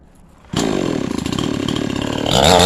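A model 5200 chainsaw, just after carburetor tuning, roars to life after a brief quiet moment and runs at a steady buzzing idle, then revs higher near the end. It is close and loud, with no talking.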